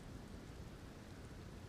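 Steady rain in a video game, a soft continuous hiss of falling drops with a low rumble, quiet and unbroken, with no voices.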